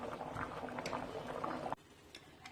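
Rice pilaf with water simmers in a covered pot, giving a faint, continuous bubbling that cuts out abruptly partway through and leaves only low, quiet bubbling.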